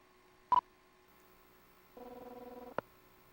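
Electronic phone ring in the X-Files PlayStation game, a single short warbling buzz burst preceded by a brief beep and ending in a sharp click.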